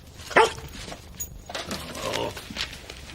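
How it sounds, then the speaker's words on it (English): A dog gives one sharp bark near the start, then whimpers and moves indoors amid background noise, with no clear speech over it. "Seth, get this dog walked now."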